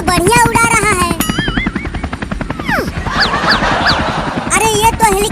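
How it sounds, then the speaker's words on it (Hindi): Cartoon helicopter sound effect with a fast rhythmic rotor chop running throughout, mixed with whistling effects and animated voices talking. "मुझे हेलीकॉप्टर उड़ाना आता है। देखो कितना बढ़िया उड़ा रहा हूँ।"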